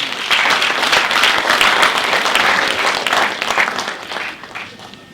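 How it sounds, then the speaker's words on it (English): Audience applause for a speaker at a research and innovation symposium during a STEM festival, a dense steady roar of many clapping hands that holds strong before gradually thinning toward the end. "Let us give our speaker another round of applause, please."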